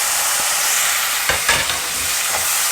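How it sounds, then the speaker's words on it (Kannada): Tomatoes fry in hot oil with pulav powder, sizzling steadily while a spoon stirs the pan in a few scraping strokes. The sound is close and alone. "ಟೊಮೆಟೊ ಚೆನ್ನಾಗಿ ಫ್ರೈ ಆಗಬೇಕು."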